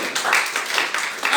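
Crowd of worshippers clapping and applauding together in a church during a sermon, a dense, loud wash of hand claps filling the short moment with no break.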